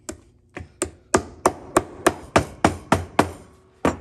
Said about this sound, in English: We hammer that over so it can hit the steel plate and soften so you don't feel the threads as you're walking.